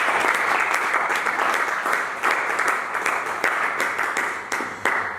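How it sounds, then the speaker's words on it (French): A church congregation applauds in a dense, sustained round of clapping, with a few louder bursts standing out near and bright throughout. "Acclame Jésus, acclame Jésus"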